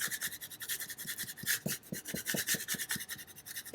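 Rhythmic rubbing over transfer tape laid on cut vinyl, a rapid series of close scratchy back-and-forth strokes at an even pace with no talking.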